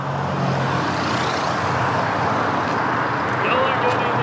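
Steady roadside traffic roar from passing cars and trucks fills the scene continuously, loud and broadband, with a vehicle swelling closer near the end.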